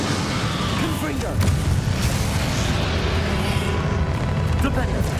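The Confringo spell in Hogwarts Legacy sets off rumbling explosive booms amid loud, dense combat noise that persists throughout, with a voice speaking over it.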